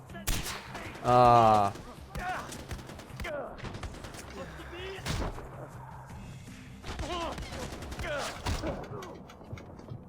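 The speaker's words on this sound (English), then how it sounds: "Stop shooting that much at me." Far Cry 4 gunfire erupts in rapid bursts and scattered single shots with metallic mechanical clatter, loud and close, while a voice briefly exclaims.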